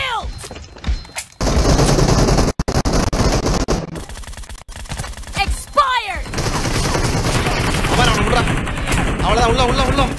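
Rapid automatic gunfire in PUBG comes in sharp bursts and then a longer sustained stretch of fire, loud and close, with voices talking over the shooting.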